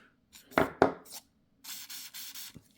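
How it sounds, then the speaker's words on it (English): A few short hisses from a spray nozzle spraying oil onto a cleaning patch while cleaning a Galil rifle, close up, with soft rubbing and clicks between them and a quiet pause in the middle. "actually we'll spray this with a patch."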